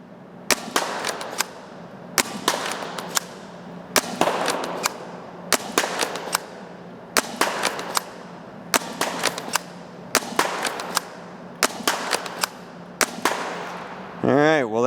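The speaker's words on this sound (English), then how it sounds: "Firing worker darts out of it this go around." A thin 3D-printed spring blaster fires Worker foam darts in a row of about ten sharp, loud snaps at a steady pace, each with a short rattle, followed by a brief whirring sound at the end.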